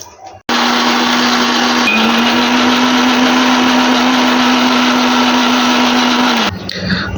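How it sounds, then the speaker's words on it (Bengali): A kitchen blender grinds onion, garlic, ginger, green chili and mustard with a splash of water, a loud steady whir running without pause for about six seconds before stopping abruptly, with no talk over it. "পেঁয়াজ রসুন ব্লেন্ডার করে নেব, ব্লেন্ডারে নিয়ে নিচ্ছি।"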